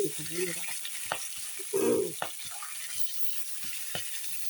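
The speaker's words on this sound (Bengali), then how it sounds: "মাছ উল্টিয়ে দেবো একটু আস্তে আস্তে করে উল্টে দিচ্ছি এই দেখো এক পাক ভাজা হয়ে গেছে" Pieces of rohu fish fry in a pan and are turned over, giving a steady crackling sizzle broken by a few soft scraping knocks and a louder splattering burst as the fish is flipped.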